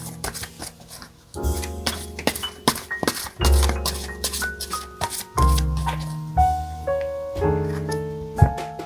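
Tarot cards are shuffled and handled by hand, a series of soft riffling brushes and light taps and clicks coming in irregular bursts, close up and fairly quiet, with no one speaking.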